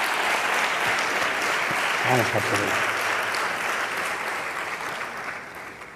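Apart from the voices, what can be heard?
audience applauding a speaker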